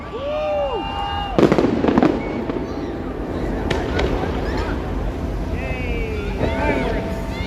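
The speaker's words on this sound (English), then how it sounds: "I think we got low-hanging fireworks here" Fireworks burst over downtown Toronto on a warm Saturday night, with whistling rising shells and several loud cracking booms among crowd noise, wind buffeting and a low city rumble.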